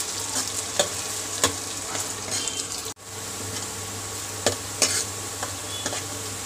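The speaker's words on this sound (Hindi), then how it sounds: "प्याज हमारे फ्राई हो रहे हैं" Onions and garlic frying in a pan, a steady close sizzle with occasional spatula scrapes and clinks, briefly cut off for a moment before the frying resumes.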